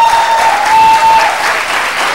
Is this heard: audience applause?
yes